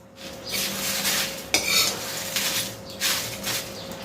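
Coriander seeds, cinnamon and cumin dry-roasting in a pan without oil, with a spoon scraping and stirring through the spices, a sharp metallic clink partway, close and fairly clear.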